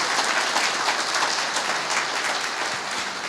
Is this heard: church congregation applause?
yes